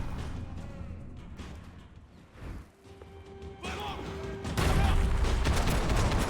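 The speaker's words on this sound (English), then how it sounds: "Did I just shoot through the wall?" Gunfire and crashing impacts from the video game Max Payne 3, with a burst of shots, smashing debris and mechanical clatter that grows louder and denser toward the end, wide-band and close.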